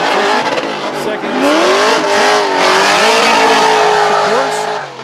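A drift car at an LS Fest East event, likely a BMW E30, revs hard on track, with a loud, sustained engine wail that rises and falls through the run. Tire squeal runs throughout and a commentator talks over it.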